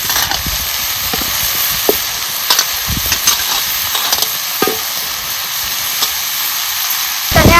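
Vegetables dropped into a hot pan over roasted chutney, giving a loud, steady sizzle and hiss of frying, with occasional scrapes and taps as the mixture is stirred.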